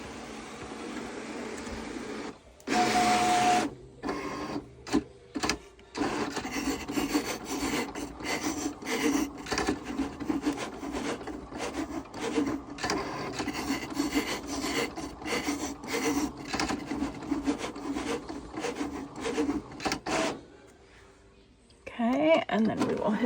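Cricut cutting machine slicing through felt, a close rasping, scraping drone with repeated stop-and-start pauses as the carriage moves, running steadily for about twenty seconds before falling quiet.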